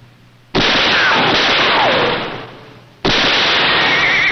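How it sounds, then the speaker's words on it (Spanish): Two sharp, loud gunshots a few seconds apart, each a sudden blast with a decaying tail, from a Western television drama. "Le haré un disparo en la pierna para que sepa lo que se siente."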